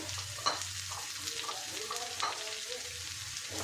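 Spring onion greens sauté in a pan, roasted for a chutney, with a soft continuous sizzle and occasional light stirring scrapes, fairly quiet and close, no voices.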